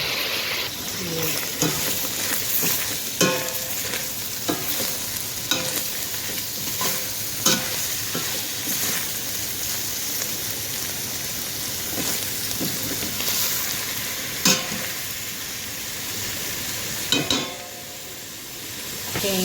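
Hot dog sausage and mushrooms stir-frying in a pan, with a steady crackling sizzle throughout and periodic sharp scrapes and clacks of a utensil stirring, close and fairly loud, with no talking.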